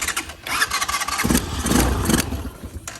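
A GY6 scooter engine on a Chinese scooter is cranked and briefly catches, giving a sputtering mid-pitched burst close by that fades back without settling into a steady idle.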